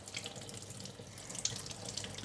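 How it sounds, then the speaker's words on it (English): Tap water runs steadily into a sink while clams are rinsed and checked one by one, a continuous splashing flow with small clinks and drips, no talk over it. "check under the running water"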